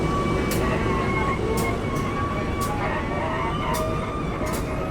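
A CC 203 diesel locomotive in vintage PJKA livery leaves Balai Yasa Yogyakarta, its loud continuous engine roar and rumble filling the scene, with faint tonal horn-like lines and brief sharp clanks.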